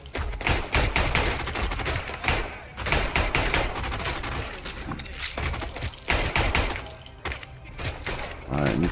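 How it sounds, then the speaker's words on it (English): Dense bursts of gunfire from a World War II shooter, RAID World War II, rattle loud and close, with rapid machine-gun volleys and single shots layered over chaotic battle noise throughout. "I loosed off a few too many rounds"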